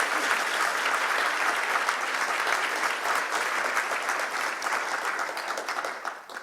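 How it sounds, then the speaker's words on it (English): A conference audience at the WISE Campaign Conference 2016 applauds, dense sustained clapping from a sizable crowd that holds steady for several seconds before tapering off, with no talking over it. "Round of applause,"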